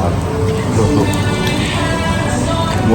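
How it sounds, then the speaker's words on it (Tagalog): Rain falls in a dense, loud, continuous patter and hiss at an outdoor hotpot barbecue gathering, steady throughout with faint voices underneath. "Umuulan pa sila."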